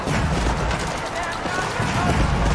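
Hand cannon gunfire from the real-time strategy game Age of Empires IV, with dense, overlapping shots crackling through a continuous battle din that stays loud throughout.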